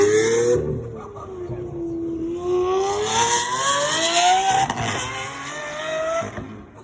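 A Lamborghini-style SV Super Veloce sports car engine revs loudly up and down, a rising and falling wail that climbs, dips, then surges again close by, with a voice talking briefly over it.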